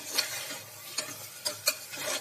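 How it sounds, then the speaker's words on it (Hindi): A spoon stirs and scrapes through mutton and spinach curry in a pan, several soft close strokes with faint sizzling and no voices. "तो अब ये आधा चम्मच गरम मसाला और 1 टेबलस्पून जितना नींबू का रस"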